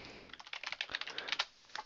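Quick bursts of typing on a computer keyboard, a rapid run of close, crisp key clicks lasting under two seconds with a short pause near the end.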